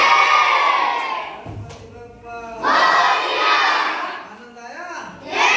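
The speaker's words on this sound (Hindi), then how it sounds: "इसके लिए जोरदार ताली।" Children in a classroom clap and cheer together, loud bursts of shouting and whooping rising and falling in several waves over a few seconds.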